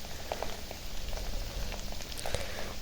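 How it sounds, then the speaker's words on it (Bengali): Onion frying in oil with ginger and garlic paste for a chicken and potato dish, a soft steady sizzle and crackle with scattered pops, close and moderately quiet, with no voices. "তো দেখুন, পেঁয়াজটা ভেজে এখন আদা রসুনটা দিয়ে দিলাম।"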